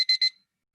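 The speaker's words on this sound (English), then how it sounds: "Why is there a beeping dove in this room?" Two quick high-pitched electronic beeps in rapid succession from a dove-shaped device, crisp and close, followed by silence.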